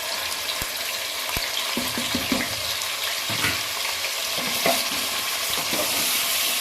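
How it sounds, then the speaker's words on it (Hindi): Onions, tomatoes, green chillies and spices fry in a pan with steady sizzling, broken by a few sharp clacks of a spoon stirring against the pan. No voices are heard. "और 5 से 7 मिनट के लिए हम इसकी अच्छे से भुनाई करेंगे।"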